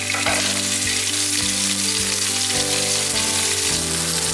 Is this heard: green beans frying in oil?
yes